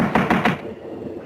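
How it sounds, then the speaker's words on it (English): Several quick knocks on a wooden door, close and sharp, in a rapid series of four or so raps before a quiet room tone, from a 1944 mystery film. "Better try knocking this time, Watson."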